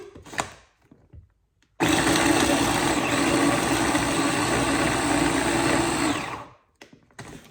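A food processor roars to life, whirring loudly and evenly as it chops cabbage for about five seconds, then winds down, with quiet handling noises before and after.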